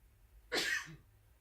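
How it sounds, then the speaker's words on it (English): A single sharp sneeze bursts out close by, brief and forceful, then fades into quiet background hum. "Ooh, I had to sneeze there."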